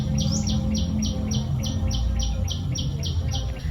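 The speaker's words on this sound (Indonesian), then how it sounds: "Coba dengarkan kicauan burung berikut ini." A bird chirps over and over in a quick, even rhythm, fairly close, above a steady low rumble of background noise.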